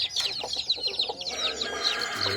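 Native country chickens clucking just after their coop is opened, a busy cluster of overlapping clucks and chirpy calls continuing without pause, fairly close.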